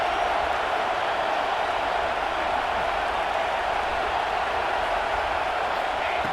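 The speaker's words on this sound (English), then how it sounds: "And the crowd coming to life here, trying to help this defense down in the red zone." Stadium crowd noise from a college football video game, USC against Oregon, swells in a steady, dense roar with cheering as the defense holds in the red zone, continuous and fairly loud throughout.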